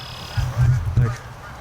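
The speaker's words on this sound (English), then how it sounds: "there's 2 pair of geese on the lake" Canada geese honking on a lake, a few nasal calls in a short cluster, moderately close and fairly loud, with a voice faintly present underneath.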